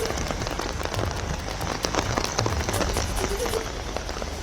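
Heavy monsoon rain pouring down in Delhi, a dense continuous hiss of drops on surfaces with scattered sharper splashes throughout.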